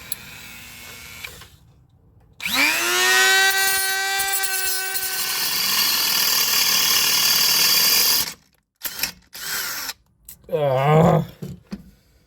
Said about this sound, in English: take a punch pin and just drill it out